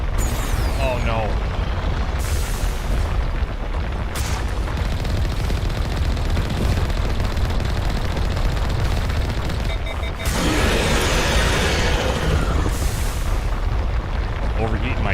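Mako vehicle turrets in Mass Effect 1 Legendary Edition firing in sustained heavy bursts, a dense continuous barrage of booming blasts with a louder surge near the end, while a voice talks over it.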